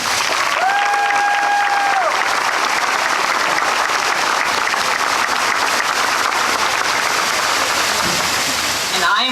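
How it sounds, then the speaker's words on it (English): A homecoming coronation audience applauds loudly and continuously, a dense wash of clapping that holds for the whole stretch, with a brief whistle-like tone rising above it early on. "Can we get another round of applause?"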